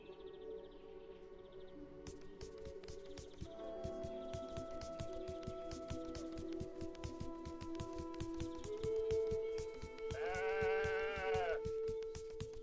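Sheep bleat over a rhythmic electronic soundtrack in the video game Woven, a wavering bleat standing out clearly near the end.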